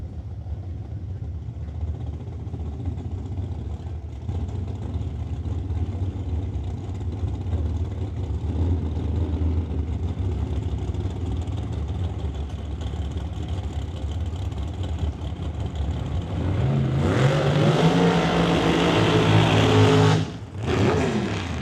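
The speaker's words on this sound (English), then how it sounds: "Well, there we go with the burnouts." Drag racing cars fire up at the T&T Motorsports West Coast Classic in Mission, BC. Loud engines idle and rumble steadily, then rev hard into roaring burnouts near the end.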